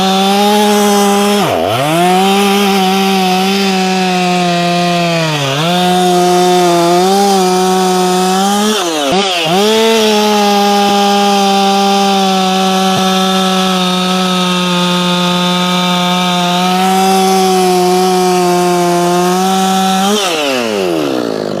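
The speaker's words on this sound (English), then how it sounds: "That's a good little saw." A ported Efco 165 chainsaw cuts wood at high revs, a loud, sustained, buzzing engine whine that dips briefly several times under load before climbing back, with no voices.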